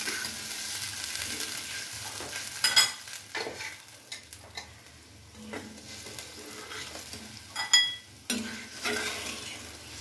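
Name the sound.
water and sugar curry boiling in a pan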